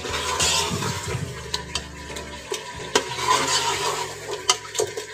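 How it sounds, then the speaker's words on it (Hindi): Meat (gosht) frying in a pot for chana dal gosht, stirred with a spoon: steady sizzle under repeated scraping strokes and sharp metal clinks against the pot, close and fairly loud, with no talk. "ये देखिए मेरा गोश्त अच्छी सा भुन चुका है"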